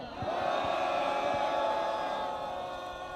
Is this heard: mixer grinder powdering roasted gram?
no